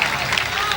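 Audience applause and cheering at an all-India poetry mushaira, a steady, dense burst of clapping from a crowd filling the whole brief moment.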